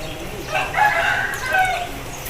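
A nearby Aseel rooster gives a short, clear crow that rises and falls over about a second. A second fainter call follows against quiet background hiss.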